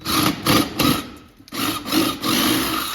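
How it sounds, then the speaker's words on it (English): A drill bores into old, hollow wooden crown molding in rhythmic grinding pulses, loud and close, with a brief slowdown midway before it picks up again. "I'm gonna drill another one here so you can kind of see."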